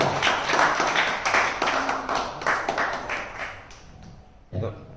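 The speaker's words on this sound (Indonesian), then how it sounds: "Baik, berikan aplaus." Audience at a PWI Purwakarta inauguration ceremony claps in a steady burst of applause that fades out, with voices talking over it and a single loud clap near the end.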